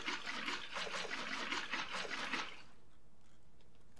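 Placed water in Minecraft gives a steady, close game trickle and splash for about two and a half seconds, then cuts off, leaving faint hiss.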